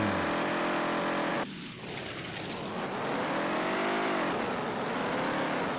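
A video game car engine labors and strains as it struggles to climb a hill, a loud continuous drone with pitch that dips and swells, revving without gaining speed, close and dominant throughout.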